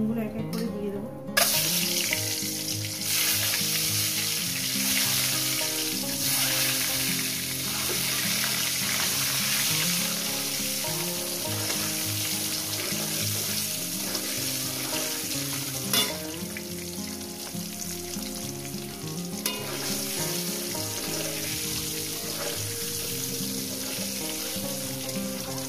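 Eggs frying in hot oil seasoned with salt and turmeric for an egg curry, a loud, continuous crackling sizzle that runs the whole way with faint scraping from stirring.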